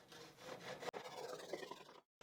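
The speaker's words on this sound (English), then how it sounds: "cut off what's left using the Japanese saw so it's flush" A Japanese pull saw cuts a glued wooden dowel flush with a woodworking piece, giving close rasping strokes with a brief pause partway, then stopping abruptly into silence.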